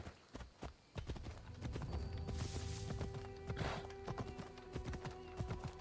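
Horse hooves clip-clop in a quick, steady rhythm in the video game Assassin's Creed Odyssey, with a faint tonal hum underneath.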